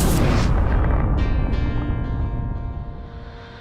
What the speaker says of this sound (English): And Falcon 9 has landed.